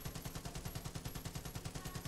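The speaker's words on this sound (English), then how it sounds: "Distant gunfire." Faint, distant gunfire in Far Cry 5, rapid, evenly spaced bursts like automatic fire rattling far away, continuing steadily throughout.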